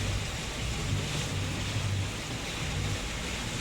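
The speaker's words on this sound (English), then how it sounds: "Now this is what I call sailing" A sailing boat plows through waves, with a continuous broad rush of water and wind buffeting the hull close by, steady and loud throughout.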